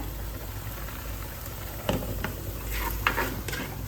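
Spinach and onion sizzle gently in a pan, a steady close frying hiss broken by a few soft clinks and stirring scrapes, with no voices.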